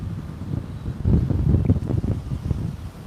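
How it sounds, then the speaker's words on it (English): Strong wind buffets the microphone in continuous gusty rumbles, loud and close throughout. "You don't hear the wind? Super, super windy."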